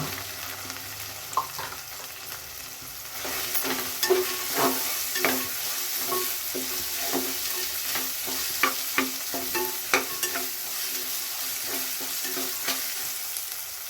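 Green peas sizzle and fry in a pan for a fenugreek-leaf pulao, with repeated scraping stirs of a spoon knocking through a steady hiss at close range.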